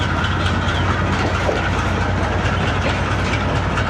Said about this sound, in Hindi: 11 अप हज़ारा एक्सप्रेस रवाना होते हुए